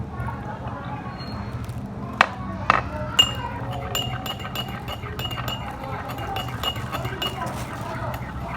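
Glass clinking while watermelon solution is stirred in a glass: a few light, ringing taps, then scattered faint clinks under continuous talking.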